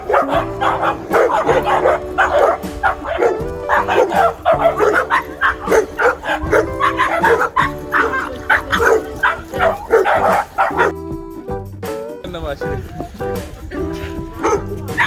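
Several dogs bark and yip loudly and repeatedly in Dean Village, Edinburgh, Scotland, a busy overlapping chorus with some whimpering that drops briefly near the end.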